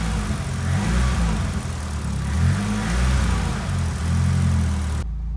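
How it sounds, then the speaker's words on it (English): A Nissan S15 with an SR20DET engine held at raised revs during coolant bleeding after a thermostat replacement, a steady loud close engine drone with slight swells, alone, cutting off abruptly at the end. "Give it some revs to help circulate the coolant"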